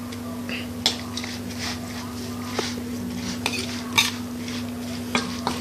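Larb being tossed and mixed in a bowl produces soft stirring rustles and occasional sharp clinks of a utensil against the bowl, over a steady low electrical hum.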